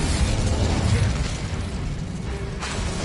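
Incendio fire spell cast in the Hogwarts Legacy video game, a loud burst of roaring, crackling flame that sustains for a few seconds and then tails off, with no voices.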